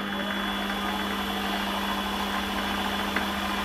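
A Holzmann ED400FD metal lathe turning steel at 600 rpm gives a steady, dense mechanical drone with a constant tonal hum, continuous and unchanging throughout, with no voices.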